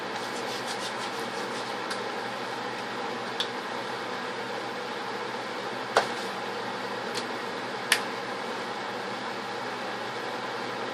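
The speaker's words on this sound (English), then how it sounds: "Sorry about the fan." An electric fan runs in a room during a hot Nevada summer, giving a steady broadband whoosh through the whole clip. Faint clicks and a few small taps sound over it, and no one speaks.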